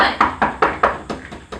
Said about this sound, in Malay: pagi Jebat dikejutkan dengan ketukan pintu yang sangat kuat oleh Lekir dan Lekir.